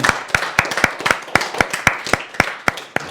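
A school class applauds a student, a sparse, uneven run of sharp, close hand claps with distinct individual smacks and no steady rhythm.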